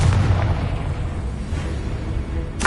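A Confringo blasting spell explodes in Hogwarts Legacy, a heavy low boom with a rumbling tail that fills the whole moment, loud and close.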